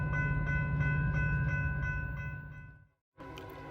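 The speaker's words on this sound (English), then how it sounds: "we observe NS Train 171 as he heads west. This night with the NS 1800, nicknamed the Yellow Bonnet, leading" Norfolk Southern freight train 171 heads west through London, Ohio at night behind the NS 1800 locomotive. A steady, loud rumble with tonal engine hum holds, then fades away to near silence before a short burst of sound returns.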